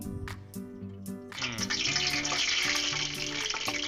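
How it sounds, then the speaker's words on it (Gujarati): Oil for Gujarati handvo is poured into a heated medium pan. A low tonal hum comes first, then a sudden broad, rushing sizzle starts and keeps going, loud and close. "તપેલું સામાન્ય ગરમ થઈ ગયા બાદ તેની અંદર લગભગ 100 થી 150 ગ્રામ જેટલું તેલ"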